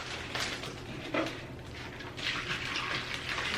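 White cleaning vinegar pours into a plastic bag in a steady, close liquid splash with a brief louder slosh midway, running on alone without talk.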